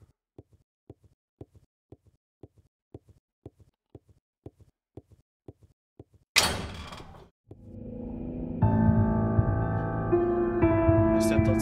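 A door opens in Chestnut Grove: evenly spaced soft footsteps lead to a sudden loud creak-and-thud, followed by sustained ambient music.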